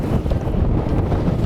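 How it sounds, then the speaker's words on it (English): Strong wind buffets a fishing boat on the Tennessee River, a loud continuous roar and rumble with gusty microphone noise throughout. "it's kind of windy"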